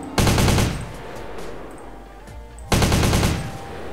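Two loud, close bursts of AK-47 automatic fire from a GTA San Andreas weapon mod, each a rapid clatter of shots with ringing decay between them.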